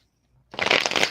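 Reading cards being shuffled come in after a brief near-silence as a dense, close burst of riffling and sliding card noise lasting about half a second.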